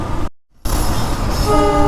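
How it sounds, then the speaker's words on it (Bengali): A train passes close by on a road near Purbachal, a loud rumbling roar that briefly drops out, then returns with a sustained horn-like tone. "train train train"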